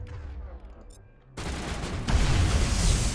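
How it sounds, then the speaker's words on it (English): Heavy explosion in the video game Mass Effect 1 Legendary Edition, a sudden loud broadband blast that jumps in and swells into a rumbling, crackling roar sustained to the end, following quieter game sounds. "That was a pretty strong explosion."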